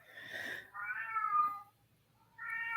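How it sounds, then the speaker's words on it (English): A domestic cat meows nearby, three drawn-out wavering cries with short gaps between them, in a quiet indoor room. "I got to get my cat. He sounds like your grandbaby."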